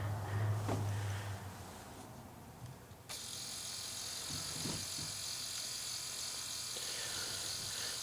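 A LetraTag LT100 label maker printing a label, a thin steady whirring buzz of the print motor that starts abruptly partway through and runs evenly to the end, close by and fairly quiet.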